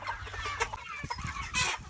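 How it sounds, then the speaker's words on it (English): A broody hen makes soft, low mothering clucks, a few brief throaty notes close by against a quiet background. "these little mothering clucks that you hear, that's one of them"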